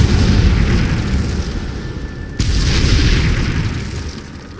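Incendio fire spell blasts in the Hogwarts Legacy video game, a loud, dense roaring burst that swells, dips, then erupts again with a sharp onset midway, sustained rumbling throughout.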